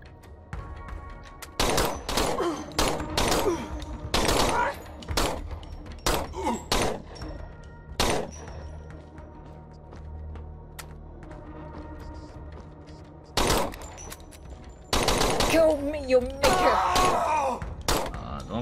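Gunfire from a player's weapon in the Subhuman PC demo, a series of loud, sharp shots in irregular bursts spread across the stretch, with quieter gaps between volleys.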